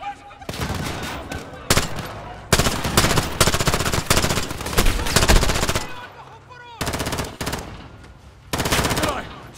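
Machine gun fire in the video game Call of Duty: Modern Warfare rattles in loud, dense sustained bursts, broken by brief pauses and resuming repeatedly, close and dominating throughout.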